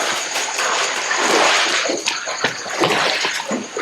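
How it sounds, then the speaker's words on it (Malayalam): Ghee pours and splashes into a cooking pot, a brief gurgling stream with a few sloshing bursts, close and fairly loud. "അവസാനം നമ്മൾ നെയ്യ് കൂടി ഒഴിക്കുവാണ്"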